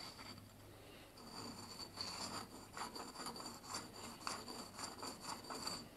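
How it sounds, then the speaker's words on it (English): Lathe cutting tool given a couple of strokes on a whetstone in a home machine shop, a soft repeated rasping rub in short, steady passes, fairly quiet with a faint low hum behind it. "a couple of licks on the whetstone"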